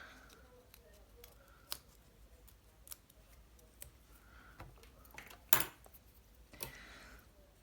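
Small scissors snipping a paper nail form, a few quiet, sparse clicks and cuts spaced apart over a faint background hush.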